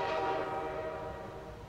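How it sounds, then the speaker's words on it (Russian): Train-like rumble in the video game Portal 2, a loud dense roar with a horn-like tonal blare that slowly fades, heard alone without talk. "Это было похоже на поезд."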